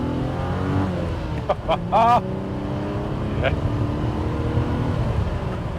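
A 1991 Alfa Romeo Sprint Zagato engine while driving, a close, rumbling drone with a few quick revving rises midway, a voice speaking intermittently over the motor.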